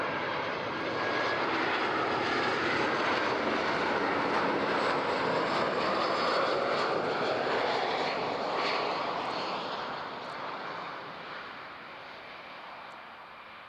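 A fixed-wing airliner landing on runway 14 at Zurich airport roars loudly and steadily overhead, a broad engine rumble that holds for several seconds and then slowly fades into the distance.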